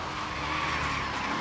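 A BMW understeers and skids in a driving video game, with a loud, continuous tire squeal over engine noise across the whole short moment.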